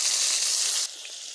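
Tomatoes and onions hit hot oil in a kadhai with a loud, bright sizzle. The sizzle drops sharply to a quieter steady hiss partway through the short burst.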